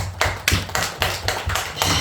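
Congregation applause during a Sunday afternoon church service, a steady run of rhythmic group clapping with sharp regular beats and no talk over it.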